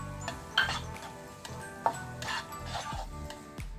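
Chicken fry masala with curry leaves being sautéed in a pan: a faint, steady sizzle with a spatula clicking and scraping against the metal at irregular moments, heard up close and fairly quiet.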